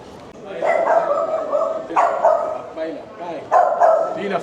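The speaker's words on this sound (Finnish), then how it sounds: "Toivottavasti toi koira ei hyökkää mun kimppuun, mä en uskalla liikkua." A dog barks in repeated bursts close by at a Tuscan villa, the yelps coming about every one and a half seconds while people talk over and around them.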